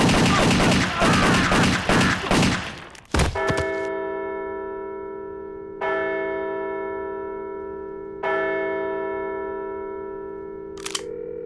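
Cartoon gunfire opens as a dense, rapid volley of loud shots, then three separate sharp blasts follow at intervals, each trailing into a long, metallic ringing decay.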